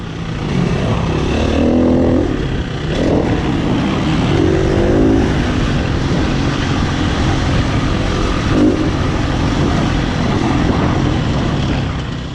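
KTM 350 and YZ85 dirt bikes ridden around the Mt Kembla motocross track, engines droning steadily and loudly close by with revving surges, no talking.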